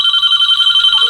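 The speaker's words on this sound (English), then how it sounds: "That's my phone ringing" A telephone rings loudly and steadily up close, its bell-like electronic tone trilling in a rapid rhythm throughout.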